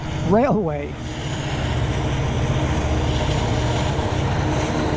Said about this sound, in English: Hey, you get to see a train.